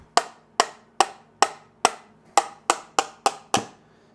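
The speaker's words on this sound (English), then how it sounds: "I can hold that together and then just give it a tap." Ten sharp metallic taps, spaced roughly evenly and fairly close, as an aluminum or titanium suppressor part is knocked to free it, each strike ringing briefly and alone.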